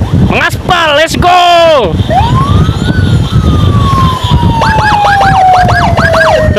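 Ambulance siren sounding during a motorbike escort through traffic, loud and close, cycling through rapid yelping bursts, a long falling wail, then quick warbles again over steady road and engine noise.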